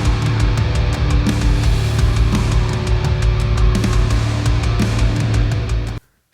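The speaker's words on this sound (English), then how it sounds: "what does Ragnar drums sound like? Sounds like this." Solemn Tones Ragnar Drums virtual drum library plays a loud, dense full-kit groove with steady hits for about six seconds, then stops abruptly.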